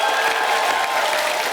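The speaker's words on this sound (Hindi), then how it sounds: "जोरदार तालियां हो जाए।" A studio audience at a comedy show applauds loudly and steadily, a dense wash of close clapping from a crowd without pause.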